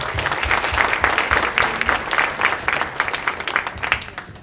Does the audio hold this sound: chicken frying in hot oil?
no